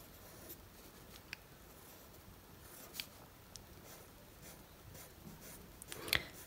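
A pen scratches across paper while sketching a simple woodlouse, with faint intermittent strokes and a few small taps over a quiet background.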